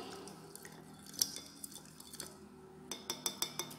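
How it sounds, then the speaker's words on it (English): A spoon stirs a mixture of solid and liquid in a glass, giving light scattered clinks that build into a quick run of rhythmic taps near the end. The sound is quiet and close, with no voices. "Now I will mix this solution properly."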